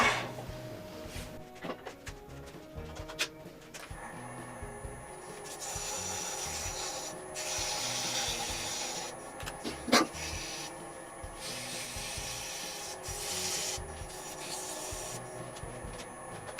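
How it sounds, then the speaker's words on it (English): Sandpaper rubs against a small turned wooden light pull in a workshop, making a continuous scratchy rasp with bursts of stronger strokes and a few knocks. "Let me get some sandpaper."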